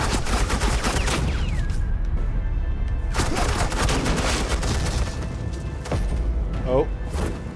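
Suppressing gunfire in the Telltale Batman game, loud, dense volleys of rapid shots with heavy booms, mixed with voices talking over the chaos.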